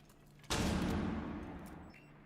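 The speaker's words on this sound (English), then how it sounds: "it'll have to be through bullet holes then, through gunfire." Gunfire in a Rainbow Six Siege-style tactical shooter match erupts as a single loud burst, then a dense crackle that slowly fades over about two seconds, with no talk over it.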